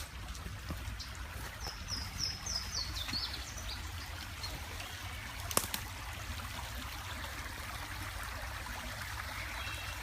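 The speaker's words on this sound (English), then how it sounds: "And there's the creek, and it is" A clear creek running steadily on a 100-acre rural property east of Springfield, heard as a continuous soft, even water flow close by, with a few faint bird calls over it and no talk.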